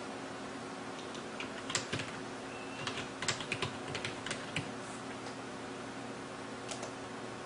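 Irregular bursts of keystrokes on a computer keyboard while entering text in a design program, quiet and close, with short pauses between clusters over a faint steady fan hum.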